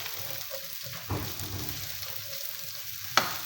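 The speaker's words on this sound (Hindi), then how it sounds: "इसको भी साथ ही जो है ना थोड़ा सा हम फ्राई करेंगे" Chopped onion frying in a pan with mutton for a bitter gourd (karela) curry: a faint, soft sizzle throughout, broken by a couple of brief scraping stirs.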